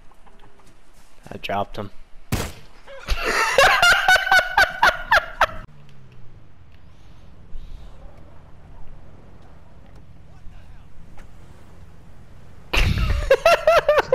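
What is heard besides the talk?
chicken clucking in a PS4 video game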